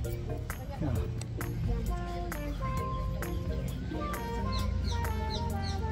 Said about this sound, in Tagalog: if you notice yung mga sound ng ibon